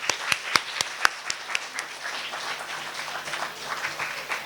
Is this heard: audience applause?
yes